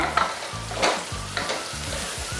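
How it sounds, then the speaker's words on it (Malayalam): Curry leaves and chopped green chilli sauté in a pan while making beef roast, a hissing sizzle with rhythmic metal scrapes of a spoon stirring every half second or so, close up, no talking. "ഈ പച്ചമുളക് ചെറുതായിട്ടൊന്ന് കട്ട് ചെയ്ത് അതും കൂടി ഇട്ട് വഴറ്റുക."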